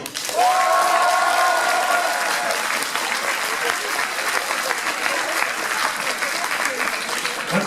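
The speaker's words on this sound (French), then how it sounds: "allez, vous applaudir." Audience applause at a cosplay parade in Dijon, a dense, loud wash of clapping that holds steady throughout, with a brief tonal whistle or cheer near the start and crowd noise underneath.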